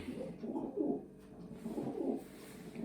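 Soft, low coos of young pigeons repeat in a gentle rolling rhythm, fairly close but quiet, over faint background hum.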